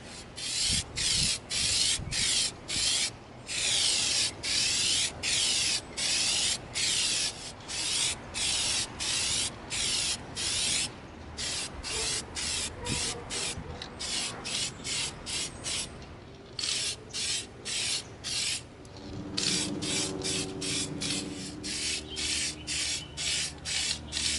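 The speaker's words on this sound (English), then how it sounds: "We're going to begin coating our Avatar RDA handgun with our Plastidip." Repeated hissing bursts of an aerosol can spraying Plasti Dip coating onto a model handgun outdoors, close and loud, in short on-off pulses with brief gaps, no voices.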